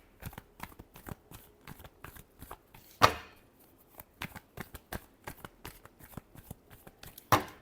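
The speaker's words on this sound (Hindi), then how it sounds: "last shuffle" Tarot cards being shuffled by hand, a quick run of soft riffling flicks close to the mic with a couple of sharper snaps where the deck is tapped or bridged, and no talking.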